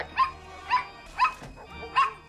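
A dog in a movie barks four times in an evenly spaced, sharp series, close and clear with quiet background between barks.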